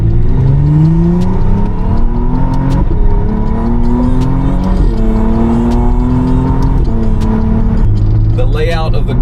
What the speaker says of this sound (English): you'll hear the engine kick on in just a second here